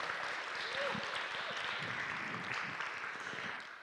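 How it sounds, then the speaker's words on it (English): Audience at a commemoration dinner event gives a round of applause, a dense, even wash of clapping held at moderate, somewhat distant level, with faint voices mixed beneath. "Let us please give one more big round of applause to our amazing team from Almas de Izote"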